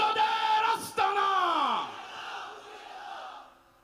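A large crowd at an outdoor religious rally roars back in unison to a takbir call, one loud sustained shout that briefly dips, swells again, then fades away over a few seconds.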